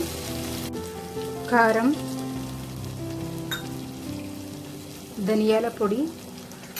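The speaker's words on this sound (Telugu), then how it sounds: "వేసి వేయించుకోవాలి" Spices for palak paneer fry in a pan with a soft, steady sizzle, while someone talks over it and music plays in the background.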